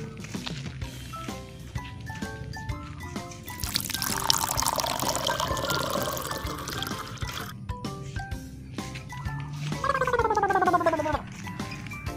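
Water poured to refill a toy bubble water pistol, a continuous gurgling pour that swells in the middle, with bright melodic tones playing around it.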